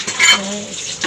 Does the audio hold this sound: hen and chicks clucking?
no